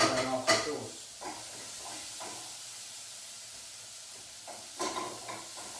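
Chorizo and onion sizzling in a pan for a peperonata sauce, a soft steady hiss broken by clatters of stirring at the start and the end.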